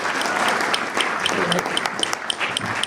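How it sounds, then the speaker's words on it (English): Listeners at a B2B sales talk event give a brief round of applause, with dense, steady clapping filling the short moment. "So let's just have a round of applause and let him wrap up the stage."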